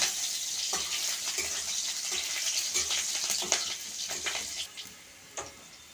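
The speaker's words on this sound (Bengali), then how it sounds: "ভেজে নেব একটু তেল ছিটকাচ্ছে" Hot oil spitting and sizzling in a pan as vegetables fry for a Bengali greens curry with aubergine and potato, a steady hiss broken by sharp, irregular pops close by, no voices.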